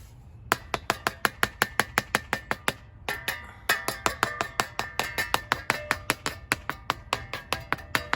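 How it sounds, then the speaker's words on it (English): Sharp, rapid taps strike freshly poured concrete in a DIY skatespot form to shake out air bubbles, a fast, even series of close clicks with a brief pause partway through before the tapping resumes. "giving it a little tap tap, try and get the last little air bubbles out"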